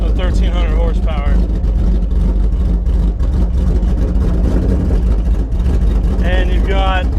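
A 2010 Ford Mustang Cobra Jet drag car rated around 1,300 horsepower idles loudly and steadily, its deep rumble constant throughout, with people talking over it at the start and end.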